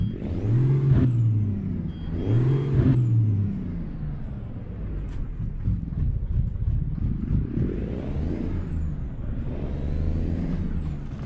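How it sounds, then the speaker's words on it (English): Truck in American Truck Simulator running with its engine brake, a deep pulsing exhaust rumble that rises and falls between hissing air-brake bursts, loud and close with no talking. "But the Jake on this thing sounds incredible."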